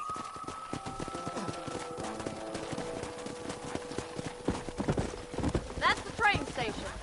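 Horse hooves clip-clop at a steady walk in the Red Dead Redemption video game, a repeated moderate rhythm beneath a sustained tone and mixed game sounds, with a whinny-like cry near the end.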